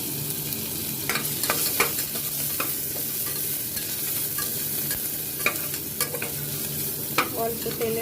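Garlic frying in a little white oil in a hot pressure cooker on a gas flame: a steady, close sizzle broken by scattered crisp ticks and scrapes of stirring.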